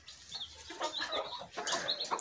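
Hens and a rooster clucking in a backyard flock: a run of close, moderately soft clucks and short calls in irregular bursts, with a few brief rustles.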